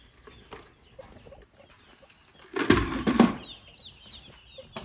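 Chickens cluck and week-old meat chicks peep softly in the background near a nipple waterer, with a brief burst of rustling and fluttering partway through.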